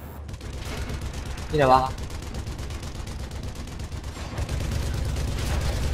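Distant sniper rifle shots and battle noise from the video game Sniper Elite V2 rumble steadily, with someone speaking briefly over them.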